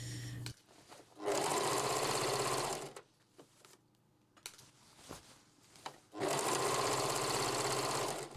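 A sewing machine stitches fabric for a sun dress in two loud, fast, rattling runs separated by a quiet pause with small clicks and handling sounds.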